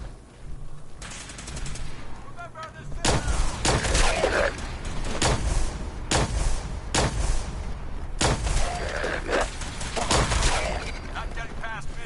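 Repeated bursts of gunfire in the Fallout 4 video game, loud sharp volleys and rattling shots coming in clusters over about twelve seconds, with short gaps between them.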